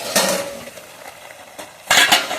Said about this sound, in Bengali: ঢাকাটা খুলে নিয়েছি।